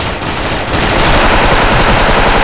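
Automatic M4A1 rifle fire in the online shooter Special Force comes as a dense, loud, continuous burst of rapid shots, close and unbroken, with no voices.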